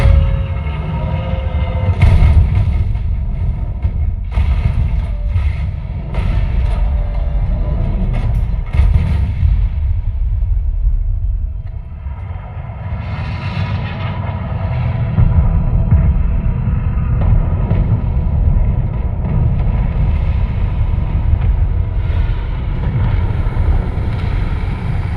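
A 15-inch mobile subwoofer pumps out heavy, continuous bass that stays loud and steady for the whole stretch, with no voices over it.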